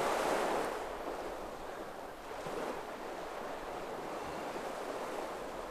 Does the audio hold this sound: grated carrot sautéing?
no